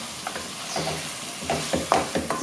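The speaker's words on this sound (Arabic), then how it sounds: "كنبقاو كتقلى تتقلى لينا هاد الدجاج مزيان" Chicken frying in a pan with garlic and onion, a soft sizzle under repeated stirring and scraping sounds that come in short bursts, close by with no talking.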